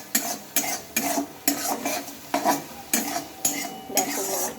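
Spice paste (masala) being stirred and fried in a pan, with about ten evenly spaced scraping strokes of a spoon against metal over a soft sizzle, close and fairly quiet, with no talking.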